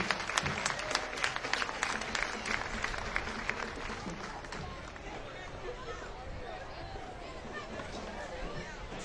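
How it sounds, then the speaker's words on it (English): A crowd lining the 2009 Henry County Tomato Festival parade route claps for a passing float, scattered outdoor applause mixed with babble and a loudspeaker announcer talking over it. "A round warm of applause for Miss Richfield Township"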